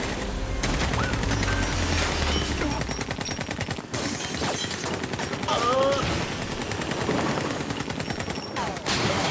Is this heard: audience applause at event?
no